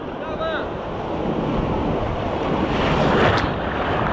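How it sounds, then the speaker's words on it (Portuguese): Rough sea waves break steadily at Perequê-Açu beach in Ubatuba, a continuous loud roar of surf with wind buffeting the microphone and a brief voice early on. "o mar tá agitado, o mar aqui é bravo"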